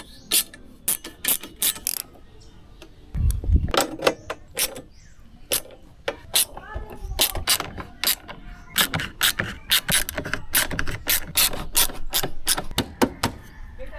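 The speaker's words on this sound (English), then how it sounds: "Let's just tighten everything back down and get everything snug" A hand ratchet clicks in quick bursts and repeated runs while bolts are tightened on a motorcycle rack and top box, close and fairly loud with short pauses between strokes.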